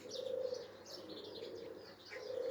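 Flock of young pigeons in flight, with soft coos and chirps and faint wing flutter over a quiet outdoor background.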